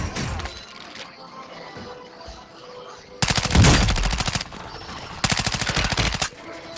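Automatic gunfire in Call of Duty Warzone: a faint shot at the start, then two loud, close bursts of rapid rattling fire, one about three seconds long and a shorter one after a brief pause, with no talking.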